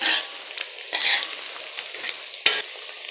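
Onions softening in a pan while cooking sautéed spinach, giving a steady sizzle with a few louder bursts of stirring and scraping from a utensil.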